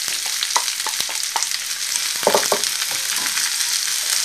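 Onion hits a hot pan of toasted spice seeds and fries with a steady broadband sizzle, close and fairly loud, broken by scattered sharp pops and the scrape of stirring, with no talk.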